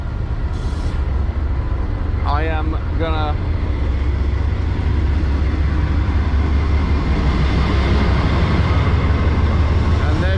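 A commuter train pulling away from Haverhill Station, northbound train 681 headed toward Brunswick, Maine, gives a loud, steady low rumble throughout, with a brief high squeal near the start and someone talking over it.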